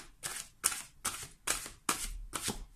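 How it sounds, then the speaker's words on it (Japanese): Tarot-style fortune-telling cards being reshuffled by hand, a series of six crisp riffling bursts in steady rhythm, close and clear with no talk. "これはシャッフルをし直して"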